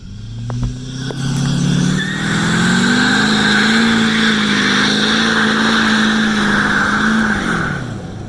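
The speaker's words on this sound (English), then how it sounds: "Do a burnout!" A pickup truck engine revs up and holds a high, steady drone during a burnout at a truck drag event, loud and close, then winds down at the end.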